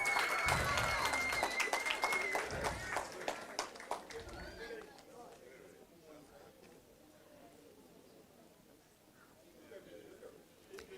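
Schoolmates at an OECS reading competition cheering and clapping for a contestant, a loud burst of applause and shouts that fades after about five seconds into quieter room noise with speech.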